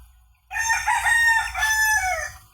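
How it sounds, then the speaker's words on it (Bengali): A poultry rooster kept in a mosquito-net enclosure crows once, loud and close, a single drawn-out call after brief quiet. "পোল্ট্রি মুরগি পালতেছে মশারি দিয়ে ঘেরা দিয়া"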